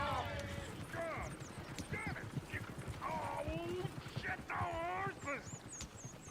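Rapid hoof clip-clop from running horses in Red Dead Redemption II, with occasional whinnies over it and talking mixed in throughout.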